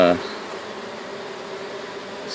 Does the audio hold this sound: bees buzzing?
yes